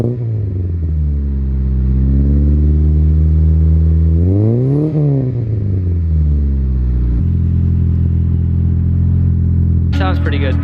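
A modded Honda Prelude's exhaust idles with a deep drone, revs up in a rising and falling sweep, then drops back to a steady rumble, loud and close, with brief voices near the end.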